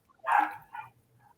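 A dog lets out one loud, sharp bark followed by a shorter, softer second yelp, close by in an otherwise quiet indoor room.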